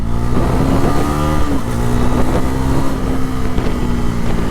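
Loud Bajaj Pulsar NS400Z motorcycle engine running close by, a throaty droning rumble that swells slightly as it revs, with some wind buffeting.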